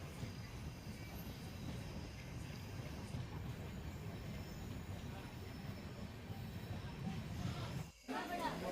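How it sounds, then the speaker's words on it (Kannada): A train pulls into Kunigal railway station toward platform 1, heard from on board as a faint, steady rumble and clatter with murmuring voices mixed in. "ನಮ್ಮ ಟ್ರೈನ್ ಈಗ ಕುಣಿಗಲ್ ರೈಲ್ವೆ ಸ್ಟೇಷನ್ಗೆ ಎಂಟ್ರಿ ಆಗ್ತಿದೆ, ಪ್ಲ್ಯಾಟ್ಫಾರ್ಮ್ ನಂಬರ್ 1ಕ್ಕೆ"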